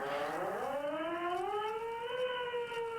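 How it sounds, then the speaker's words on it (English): A wailing civil-defense-style siren in the video game Disco Elysium rises and settles into a steady, sustained howl with layered harmonics, loud and continuous with no voices over it. "That siren totally won't get annoying."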